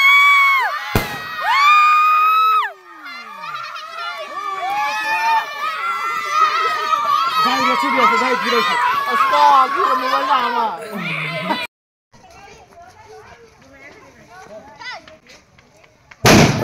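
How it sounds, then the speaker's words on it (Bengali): Fireworks go off at a Bengali wedding turmeric ceremony, with whistling rockets and crackling bursts over a loud, cheering crowd and shouting children, then a sudden drop to quieter crowd murmur before a final loud burst. "এখানে হচ্ছে সবাই আতশবাজি ফোটাচ্ছিল"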